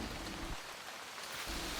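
Heavy, unrelenting rain pours down outdoors during a walk, making a dense, continuous hiss that fills the whole short stretch without any voices.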